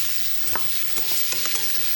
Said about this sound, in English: Just stir these around a little bit just till they start to get a little color.